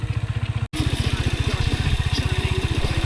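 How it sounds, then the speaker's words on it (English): A motorcycle engine thrums with a fast, even pulse of low firing beats, loud and close, holding a steady rhythm after a brief cut, heard on a roadside in Yunnan, China. "That's a cool motorcycle."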